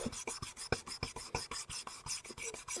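Quick rhythmic rasping strokes of a whitemetal model locomotive part being polished along its edge, close and moderately loud, each stroke a short scratchy burst in a steady back-and-forth pattern.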